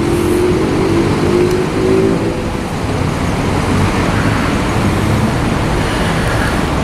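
Loud road traffic rumbles past, with buses and cars climbing a viaduct near a Scania bus factory; engines drone and swell in close, continuous passes, with one vehicle's tone rising and falling early on and no speech.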